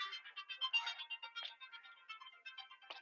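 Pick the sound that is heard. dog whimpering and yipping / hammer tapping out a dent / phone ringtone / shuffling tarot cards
phone ringtone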